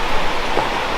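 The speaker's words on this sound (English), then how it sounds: "I was just in time for it to start raining." Rain begins to fall outdoors beside a back patio, heard as a steady, loud wash of hiss with no distinct individual drops.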